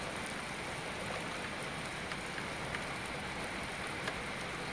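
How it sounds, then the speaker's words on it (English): Heavy rain pours down during a thunderstorm in Derby, a steady, dense hiss of drops hitting surfaces nearby with no gaps and no voices. "It's absolutely throwing it down."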